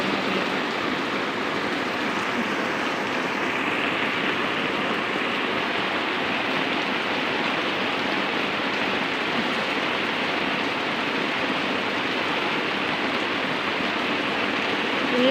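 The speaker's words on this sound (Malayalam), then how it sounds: "മഴ ഇങ്ങനെ പെയ്യാണ്." Heavy rain pours steadily around a house in a monsoon setting, a dense, unbroken hiss of downpour on surfaces that stays loud and even throughout with no voices.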